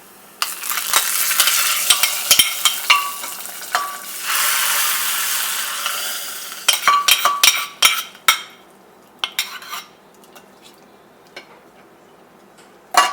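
A sputtering tempering is poured into a pumpkin and red lentil masoor dal curry, giving a loud sizzling burst followed by stirring, scraping and clinking in the pot that fade into sparse taps.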